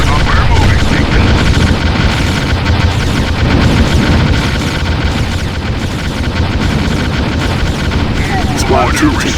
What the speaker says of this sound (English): Squad 2 taking hostile fire